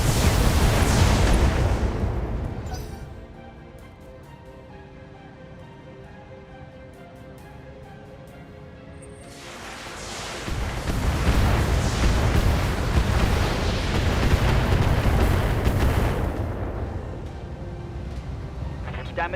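SRM missile volley and explosions in BattleTech, two loud roaring blasts of launches and impacts separated by a quieter rumbling lull, with a voice talking over parts of it.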